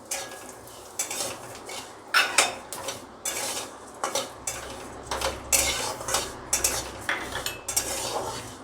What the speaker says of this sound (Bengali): এবার আমি তিলটা ভাজবো।